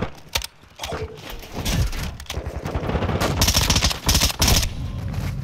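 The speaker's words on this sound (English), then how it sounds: "where are those shots coming from?" Rapid bursts of gunfire from Call of Duty: Modern Warfare II, several volleys and automatic strings of shots clustered through the stretch, loud and sharp with some quieter distant pops between, no talking.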